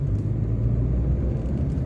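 Steady low rumble of a car engine and road noise from inside a vehicle driving through the streets of Varanasi, continuous and fairly loud with no voices.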